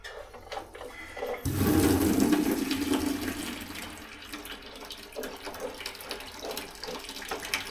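Tap water gushes into a bucket in an old cellar after the faucet is reopened, a sudden loud pour that starts abruptly and stays steady, then settles into a lighter continuous splashing.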